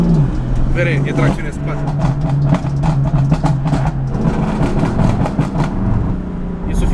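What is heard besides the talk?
BMW M4 stage 1 tune exhaust pops while revving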